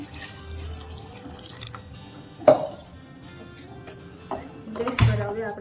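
Water is poured into a cooking pot holding dates, chopped tomato and jaggery for chutney. A steady splashing stream is followed by a few sharp clinks of utensils against the pot.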